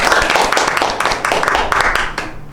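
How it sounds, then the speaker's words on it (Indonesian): Applause from a small group of ASN civil servants at a public-service micro-teaching session, dense rapid clapping filling the whole stretch at steady close volume, with voices mixed in. "Tepuk tangan untuk kita semua."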